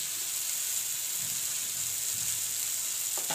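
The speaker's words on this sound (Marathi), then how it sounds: "आता आपल्याला चांगलं छान परतून घ्यायचं" Roasted eggplant bharit being sautéed in a pan, a steady hissing sizzle with faint soft stirring underneath and a small clink at the very end, no one speaking.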